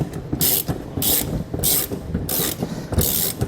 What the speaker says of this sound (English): we're going to take a 21mm socket and lower this winch here for your spare tire